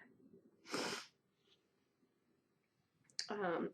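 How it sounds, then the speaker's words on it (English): Two sharp sneezes, a few seconds apart, the second followed by a brief voiced exhale, in a quiet room. "definitely got the sneezes going on today"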